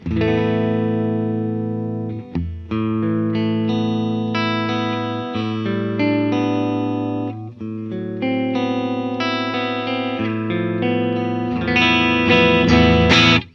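A heavily distorted electric guitar, run through a Distressor compressor with high pass and distortion engaged and a GML EQ, plays sustained chords and notes continuously, loud and saturated, with a brighter, denser burst near the end.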